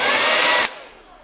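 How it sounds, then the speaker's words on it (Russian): A hair dryer blows loudly and steadily up close, then cuts off abruptly and winds down within about a second. "Да, все, фен работает."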